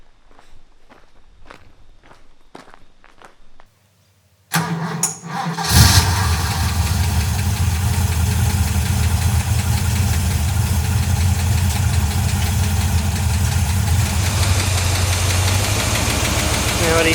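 Ford Falcon XW engine with noisy tappets: a few footsteps, a pause, then the engine cranks and settles into a steady loud idle with a continuous clattering rumble, close by, no talking.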